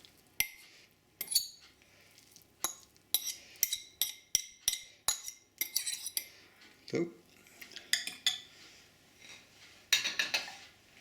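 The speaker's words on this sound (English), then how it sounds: "stir the carrots into this." Carrots being stirred into carrot cake batter in a bowl, with a spoon clinking and scraping against the bowl in a loose, irregular series of close taps.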